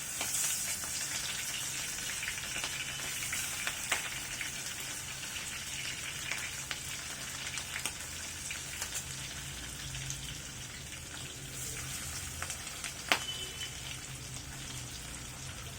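Golda prawns frying in hot mustard oil: a steady, moderately quiet crackling sizzle with a rain-like patter runs throughout, plus one sharp click near the end, with no talk.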